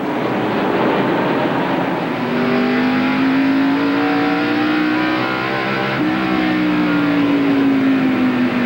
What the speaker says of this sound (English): This is onboard Kyle Petty's car.